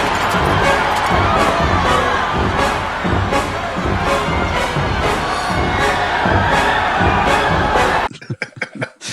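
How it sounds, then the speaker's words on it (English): A panicked crowd fleeing for the exits during a shooting scene in the 1998 film Snake Eyes, a dense continuous roar of shouts and screams under pounding music, cutting to scattered louder hits at the end. "the crowd runs for the exits while the score goes just absolutely apeshit"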